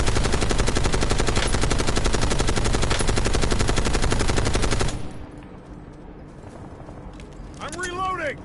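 Rapid automatic gunfire from Call of Duty: Warzone rattles loud and continuous for about five seconds, then cuts to quieter ambience with a faint radio-like voice near the end.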